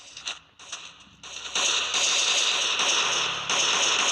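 Rapid bursts of gunfire in a zombie-fighting video game, several sharp cracks early on and then a dense, steady barrage of shots at close range, heard alone.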